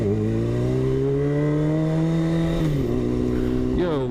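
A 2002 Honda CBR 600 F4i motorcycle engine drones steadily at close range, its pitch holding then dipping and rising again as the rider shifts speed.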